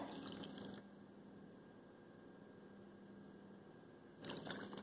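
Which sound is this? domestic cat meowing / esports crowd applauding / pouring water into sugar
pouring water into sugar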